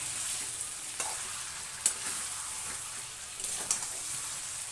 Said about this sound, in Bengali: এবার ভালো করে অনেকক্ষণ কষাবো